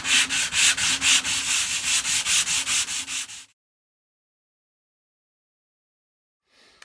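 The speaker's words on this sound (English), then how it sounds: "let's get sanding" Close, rhythmic sanding on wood for a guitar build: about a dozen quick back-and-forth rubbing strokes, then silence.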